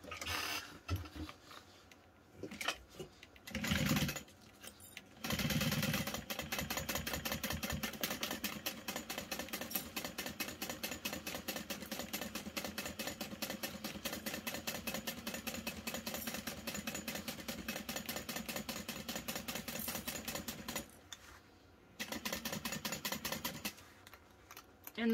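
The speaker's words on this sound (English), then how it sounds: "I'm gonna start on the flap backstitch" A sewing machine backstitching around the flap of a clutch wallet, rapid rhythmic mechanical clatter running in long steady bursts with brief pauses between, close and loud, no voices.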